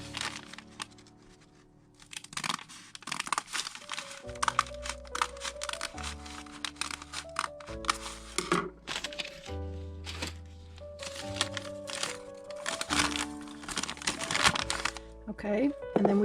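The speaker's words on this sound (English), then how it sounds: "with the scissors," Scissors cut through a paper pattern for a crochet drawstring handbag, making intermittent crisp snips and paper rustles and crinkles, while a person talks throughout.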